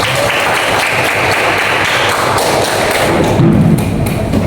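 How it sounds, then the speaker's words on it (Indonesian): A class in a lesson on disinfection and sterilization gives a burst of applause, loud and close with heavy thumping claps and room noise, continuous for several seconds. "tepuk tangan untuk Aura."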